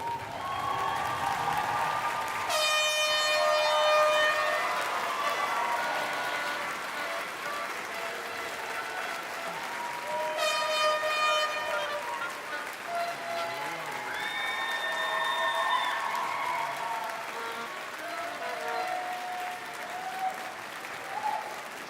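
Graduates at a university convocation applaud in a sustained round of clapping from a large seated crowd, steady and fairly even, with a few scattered voices and cheers mixed in.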